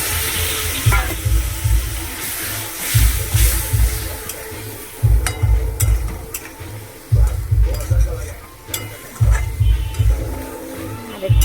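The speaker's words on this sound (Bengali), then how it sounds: "একটু জল দিয়ে দিচ্ছি।" Water splashes into a hot, sizzling pan of curry, giving a steady hiss and bubbling with rhythmic low thuds of stirring. Faint background noise runs underneath.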